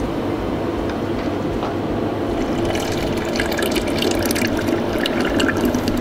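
Pâte à bombe mixture is poured into the top of a Trittico Executive Evo machine, giving a steady liquid rush and splashing that swells slightly toward the end, with no voices.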